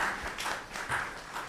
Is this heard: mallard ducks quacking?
no